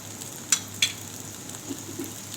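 Aloo paratha fries in oil in a pan with a steady soft sizzle, broken by two sharp crackling pops close together early on and a few faint spits afterward, with no voices.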